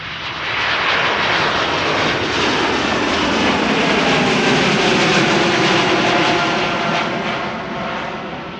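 An Embraer E195-E2 jet departs Schiphol Airport, its engine roar swelling in from the start to a loud, broad, sustained rush and whine that holds steady before easing slightly as it passes.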